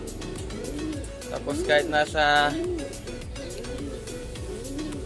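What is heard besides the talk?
pigeons cooing in a loft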